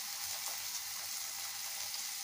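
Baby potatoes sautéing in coconut oil in a pan, giving a steady, even sizzling hiss throughout with no pauses and no voices.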